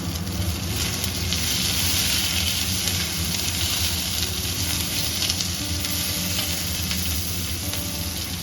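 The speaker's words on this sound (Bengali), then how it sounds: "এই আদাটা ভাজা ভাজা হয়ে গেছে" Ginger and slit green chillies fry in hot oil in a wok, giving a steady, loud, close sizzle that holds evenly throughout with no voices.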